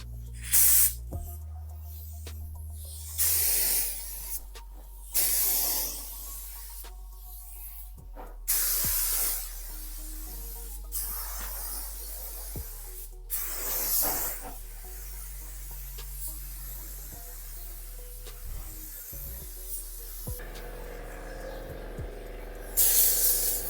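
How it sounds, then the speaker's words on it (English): Spray gun shooting primer onto a Mk3 Supra front end in a shop, bursts of loud hissing spray in repeated passes of several seconds each, with short pauses between. "Now we got our primer mix, and now we're ready to shoot."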